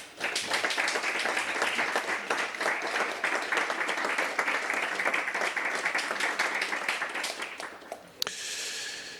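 An assembly audience at the Geneva Red Cross general meeting claps together to re-elect two members by acclamation, a sustained, fairly loud wash of hand claps that stops abruptly near the end, followed by a brief quiet murmur.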